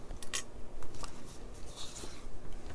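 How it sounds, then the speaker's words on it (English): Scissors cut black cardstock, several crisp close snips and slicing rasps in quick succession, with no talking. "we're going to cut a piece of black cardstock"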